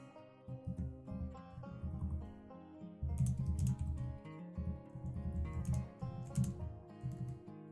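Steady typing on a computer keyboard with a blue keyboard, a run of close, quick clicking keystrokes in bursts with short pauses, no talking.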